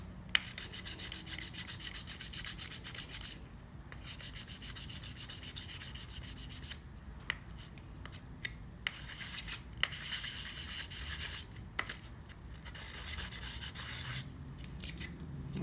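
Sandpaper rubs by hand across a workpiece in a home build studio, a steady soft scraping hiss with brief breaks in the rhythm, fairly quiet and close.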